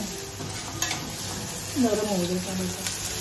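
Onion and tomato sizzling in a frying pan, with a steady hiss, brief scraping stir sounds and a faint voice in the background.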